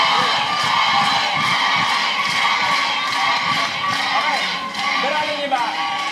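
Studio audience in a lotto TV studio cheering and shouting together for Jeron and Jeric, a dense, loud, sustained roar of voices with whoops throughout.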